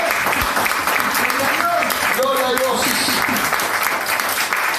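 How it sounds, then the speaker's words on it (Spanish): Sustained, dense applause from a large church congregation fills the space while a preacher speaks over it. "Dale ese aplauso con fuerza al Señor."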